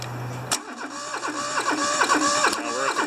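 A smoky diesel engine cold-starts close by: a low tone, then a loud click and the rough, rhythmic chug of the motor catching and running unevenly, with a second click near the end.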